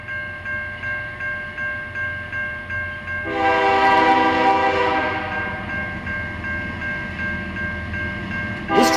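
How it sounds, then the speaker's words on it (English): A freight train led by a Ferromex GE Evolution locomotive rolls past at night, a steady rhythmic rumble of wheels and cars with a loud, sustained multi-note horn blast partway through, close and alone. "This train was a nice surprise too, with a Ferromex Gevo up front."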